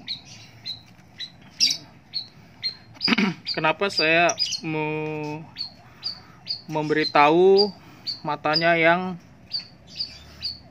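A young white-rumped shama (murai batu) gives short, repeated chirps and squawks at a regular pace throughout, close and clear, while someone talks over it in stretches.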